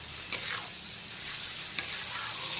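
Spice paste frying in oil over low to medium heat, a soft continuous sizzle with a couple of brief scraping stirs, close but fairly quiet.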